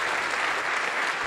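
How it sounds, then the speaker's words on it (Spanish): Dense, steady applause from a large audience at the Congreso Futuro science conference in Chile, a continuous wash of many hands clapping at even loudness with no voices standing out. "Un gran aplauso."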